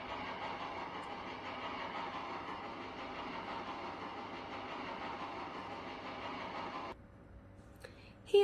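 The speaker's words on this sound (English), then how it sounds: ""Thank you, sir," said James, and he puffed happily away." A cartoon steam engine train puffs away along the rails, giving a steady, even rumble of train noise that runs for several seconds and then cuts off abruptly near the end.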